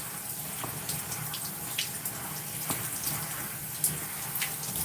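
Water runs steadily from a shower while conditioner is rinsed out of long hair, a continuous close hiss broken by occasional soft splashes and drips.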